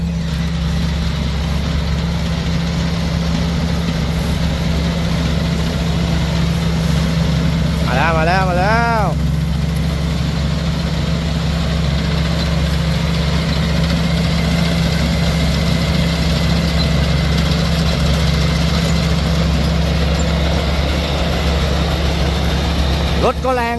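A rice combine harvester's engine runs steadily, giving a loud, continuous low drone with a deep rumble that barely changes for the whole stretch. A brief warbling tone rises over it near the middle.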